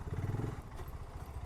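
A BSA Goldstar 650 motorcycle ridden off-road gives a steady, close, low engine chug with a rhythmic pulsing and faint clatter, with no voices over it.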